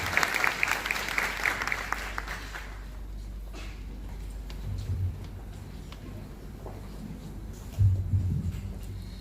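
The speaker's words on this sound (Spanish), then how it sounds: "Un aplauso para ella." A conference audience at an international obstetrics congress bursts into dense applause that rolls for a couple of seconds, then thins out quickly, leaving quiet room noise and faint stirring.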